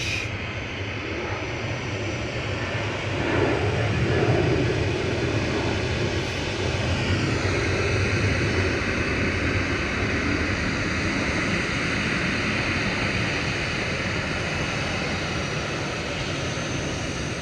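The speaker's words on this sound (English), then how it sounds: "GDRTG heading off to Tenerife South here, 737-800. Final departure on 23 right" A Boeing 737-800 bound for Tenerife South departing runway 23 right at Manchester Airport, a loud continuous jet engine roar heard from outside that swells early and then holds a steady broad rumble and whine, with no talk.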